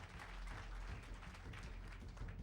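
Steady applause from an audience at an award ceremony, a dense continuous wash of clapping filling the whole moment without pause.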